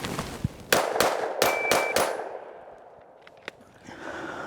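Five sharp pistol shots fired in quick succession right after a draw from a universal holster, loud and close, followed by quieter handling clicks.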